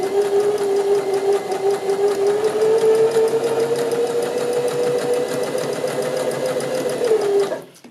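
A sewing machine runs a zigzag stitch along a fabric edge, a fast, even mechanical whir with rapid rhythmic needle ticks, close and continuous until it winds down at the end.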